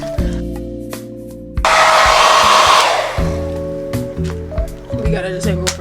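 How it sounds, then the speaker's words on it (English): A hair dryer blows on hair, its loud steady airflow roaring close for a couple of seconds before cutting out, set between stretches of background music. "I'm gonna blow dry my hair"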